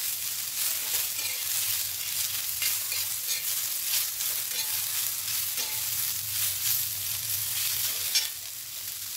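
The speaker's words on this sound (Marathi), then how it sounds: "हा कांदा आपल्याला चांगला भाजून घ्यायचा आहे" Onion pieces roast in hot oil in a pan for a hotel-style chicken curry, giving a constant bright sizzle with occasional stirring scrapes, close and even in level throughout, without any voices.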